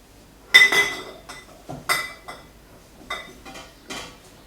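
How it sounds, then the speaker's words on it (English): Glass mason jars clink and knock against each other and a metal pot lined with a tea towel, several bright, close clatters spaced irregularly in otherwise quiet surroundings. "before I put the glass jars in"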